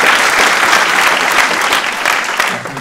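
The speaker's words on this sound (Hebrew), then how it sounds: "תנו לו כפיים בי"ב" Audience applause for a twelfth-grade student on a weekly children's drawing show, a dense sustained clapping that fills the whole stretch and eases slightly at the end.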